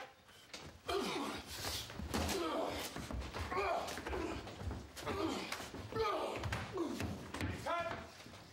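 A door slams shut with a heavy thud amid ongoing talk and background voices, loud and close.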